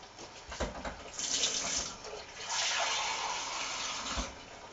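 About 150 millilitres of water is poured into homemade pizza dough in two bursts, a close splashing stream that swells, pauses briefly and then runs steadily.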